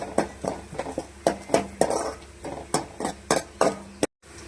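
Onions and garlic cooking in a pan for a fish kulambu, with repeated close scraping and clinking of a spoon against the pan in a steady stirring rhythm over a faint sizzle.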